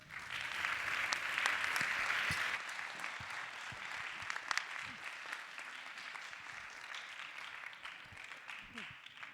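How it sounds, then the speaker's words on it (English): Conference attendees in an auditorium applaud after a software engineering keynote. The dense clapping is loudest for the first few seconds, then thins to a softer, scattered patter with a few sharper claps. "a big round of applause for Stephanie"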